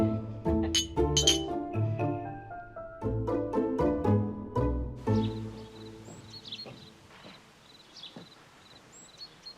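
Glasses clink together in a toast at a table, with a quick cluster of bright, ringing chinks over several seconds. Faint chirping bird or insect sounds follow in the background.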